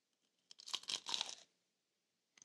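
Teeth bite into a crunchy, spicy snack close to the mic, making a short, loud burst of crisp cracking and chewing crunches that lasts about a second, followed by quiet.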